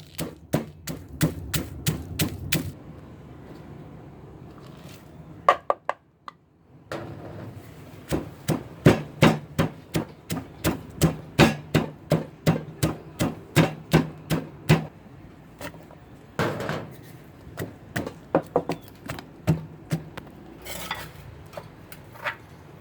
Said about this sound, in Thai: โขลกทุกอย่างรวมกันให้ละเอียดนะคะ